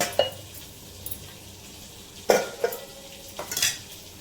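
Pointed gourd (potol) frying in a pan, a soft, steady sizzle broken by a few sharp scrapes and clinks of a utensil, nearby and quiet, with no voices.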